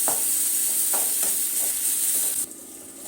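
Chopped tomatoes with a pinch of turmeric sizzle and simmer down in a pan for a curry gravy, a steady bubbling fry broken by a few soft stirring scrapes.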